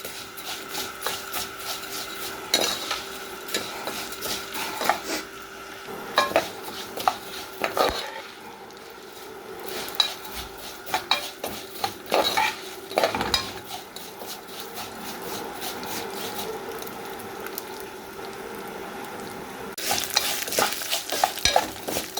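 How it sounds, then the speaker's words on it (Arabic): Vermicelli fries in a spoonful of ghee while being stirred, a light crackling sizzle under frequent scraping and clattering strokes of a spoon against the pot, close and without voices. "الشعريه عليها معلقه سمنه، نحمرها لحد ما توصل للون الذهبي"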